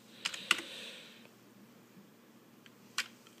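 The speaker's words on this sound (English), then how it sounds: "Yep, the Dell keyboard works just fine." A Dell computer keyboard tapped in a few quick keystrokes, a short cluster of clicks near the start and a single click later, close and quiet with no talking.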